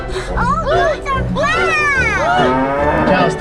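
Cattle at the Lazy 5 Ranch moo loudly and repeatedly in long, swooping calls, close by, with people talking and chattering over them throughout.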